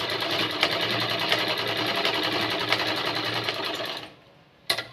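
A sewing machine runs at a steady fast clip while stitching a frock, its needle rattling evenly for about four seconds, then stopping; a brief clunk follows.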